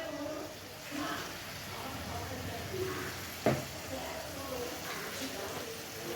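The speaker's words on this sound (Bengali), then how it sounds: "এবার মাংসটা আমরা কষিয়ে নিচ্ছি ভালো করে" Marinated chicken pieces frying in spiced curry masala in a pan, a steady close sizzle with stirring scrapes and one sharp clack near the middle.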